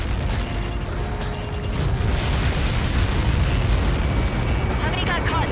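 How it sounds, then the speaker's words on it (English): Massive projectile impact explosion in Ace Combat 7, a loud sustained roaring rumble with crackling debris and heavy low-end boom filling the whole stretch, no lull. "How many got caught in that explosion?"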